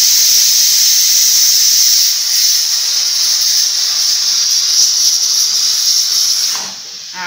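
Pressure cooker venting steam through its whistle, a loud, steady hiss close by that holds for about six seconds before dropping away; no one speaks.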